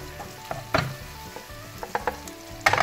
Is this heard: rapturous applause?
no